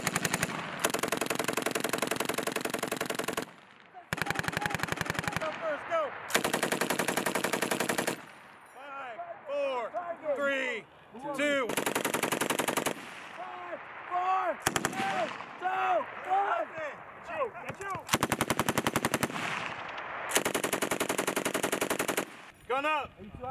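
An M2A1 heavy machine gun fires on a Marine range in loud, repeated bursts of rapid shots, with pauses between strings where voices talk.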